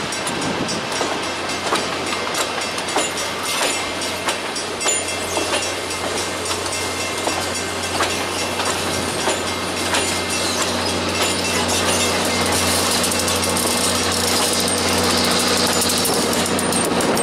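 A freight train led by the Pere Marquette steam locomotive passes in Mid Michigan: a loud, steady, close rumble and rolling clatter of railcars that builds slightly and runs continuously with no speech.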